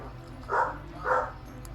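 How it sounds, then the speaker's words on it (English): Two muffled barks from a dog, spaced about half a second apart, moderately distant against a low steady background hum. "Can you hear Luna? Luna is barking"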